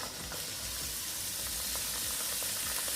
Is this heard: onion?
yes